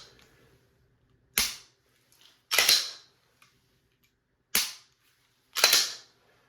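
Empty pistol dry-fired with a red dot sight, four sharp trigger clicks at irregular intervals, crisp and close, with quiet gaps between and no talking.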